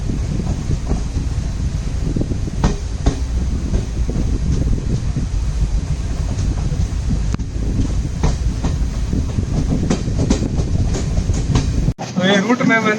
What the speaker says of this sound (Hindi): और हमारी ट्रेन रवाना हो चुकी है मुरुदेश्वर से।